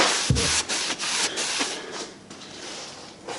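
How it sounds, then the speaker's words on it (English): A Scotch-Brite pad scrubs a metal shaper part wet with carb cleaner, giving a close series of short, rough abrasive strokes with uneven rhythm and no talk. "A little Scotch-Brite it out."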